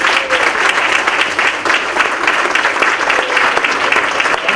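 An audience at a candidates forum claps steadily for several seconds, a dense, even round of applause filling the room with no voices standing out.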